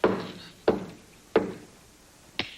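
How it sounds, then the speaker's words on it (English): Four sharp knocks on a door at a slow, uneven pace, loud and close, with no talk over them, in a sitcom Christmas play scene. "Answer the door, Tiny Tim"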